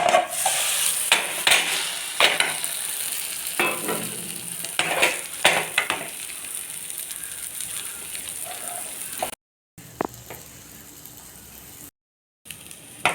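An egg omelette for an egg roll sizzles steadily in a pan, close and fairly loud, with intermittent scraping and stirring clicks from a spatula and two brief silent gaps near the end.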